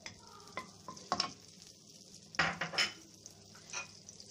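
A spoonful of ghee dropped into a pan with minced meat and onion: soft sizzling beneath several clanks and scrapes of a metal spoon against the pan, close and intermittent.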